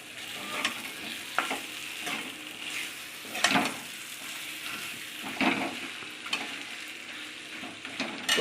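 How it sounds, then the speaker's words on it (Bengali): Chicken pieces being stir-fried in a pan for a Bengali-style chicken and jackfruit curry, with steady sizzling and repeated scraping stirs at an irregular rhythm, close and moderately loud, with no talking. "ভালো করে কষিয়ে নেব।"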